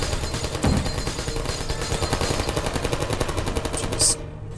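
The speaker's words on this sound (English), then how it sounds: "Hate all the shooting stuff." Rapid gunfire from turrets in the video game Portal, a dense, steady stream of loud shots running almost the whole time, ending with a sharp burst near the close.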